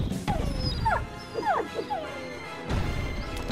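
A dog in the video game DEEEER Simulator gives a few short, high whimpering yelps in quick succession over a low rumbling background, then a sudden burst of louder noise near the end.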